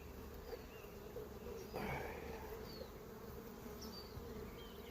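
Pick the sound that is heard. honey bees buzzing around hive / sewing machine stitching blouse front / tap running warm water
honey bees buzzing around hive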